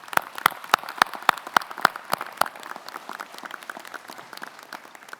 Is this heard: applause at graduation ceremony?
yes